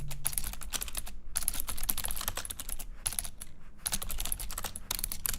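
Computer keyboard typing, rapid irregular clacking keystrokes in bursts with short pauses, close and alone.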